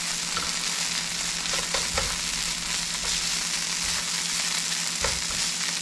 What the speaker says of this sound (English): We're going to mix it in with the vegetables.